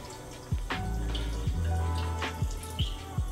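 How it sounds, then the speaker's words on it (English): Water poured into a cooking pan holding cut broccoli, so it can steam; an uneven splashing trickle with a few sharper splats and knocks, close and fairly quiet. "Now we're gonna put a little bit of water in here for it to steam."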